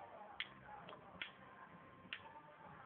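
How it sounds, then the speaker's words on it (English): Ticking noise in a puppet comedy sketch, a few faint sharp ticks spaced irregularly over a quiet background. "What's that mysterious ticking noise?"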